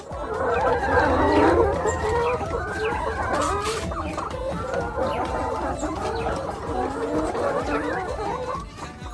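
Chickens in a wire coop built for 36 birds cluck and chatter continuously and loudly, many overlapping calls close by, with a person speaking faintly underneath.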